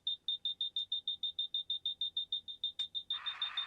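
Steady run of about fifteen evenly spaced electronic beeps from a Ghostbusters Plasma Series Ecto-1 toy car, fairly loud and close, ending in a burst of hiss.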